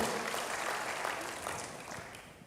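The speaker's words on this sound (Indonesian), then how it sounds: "Berikan tepuk tangan bagi Tuhan, haleluya." A church congregation bursts into applause, a dense, steady clatter of many hands that fades gradually over a couple of seconds.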